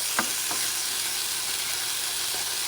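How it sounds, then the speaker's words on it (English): Steady crackling sizzle of an egg frying in a hot pan, with a few faint clinks near the start. "Grab it and just frying the egg."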